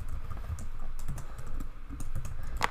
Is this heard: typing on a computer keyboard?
yes